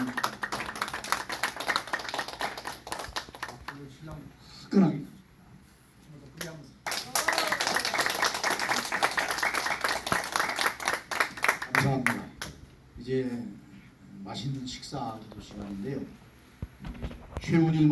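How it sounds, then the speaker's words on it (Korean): Audience after a church-hosted lecture breaks into bursts of clapping, loud and close, pausing briefly and then resuming as sustained applause, with talking in between. "박수로 크게"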